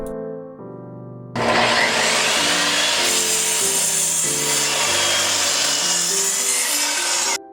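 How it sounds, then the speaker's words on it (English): A hand saw trims the width of a wooden board, with rapid rhythmic rasping strokes close by that start after a brief musical intro and run steadily to the end over light background music. "so Matt ended up trimming the width of the board down."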